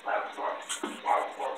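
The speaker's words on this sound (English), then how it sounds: "The damn dog was yapping." Small dog yaps and barks repeatedly at close range, a rapid run of sharp, insistent bursts with short gaps between them.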